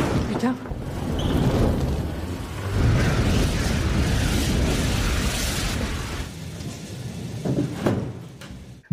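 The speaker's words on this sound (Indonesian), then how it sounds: "sebuah granat telah membuat bool mobilnya benar-benar meledak" A grenade blows up a car in a heavy blast, followed by a sustained rumbling roar and debris that fade over several seconds, with a voice partly over it.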